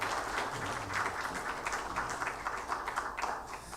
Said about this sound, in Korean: 은혜로운 찬양해 주신 우리 성가대원들에게 다시 한번 감사의 박수하겠습니다.